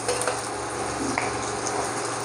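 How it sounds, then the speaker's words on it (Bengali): Fish frying in hot oil, a dense, steady sizzle and crackle that holds at the same level from start to finish, close up and with no voices. "মাছগুলো আমার ভাজা হয়ে গেছে, ভালো করে ভেজে নিয়েছি"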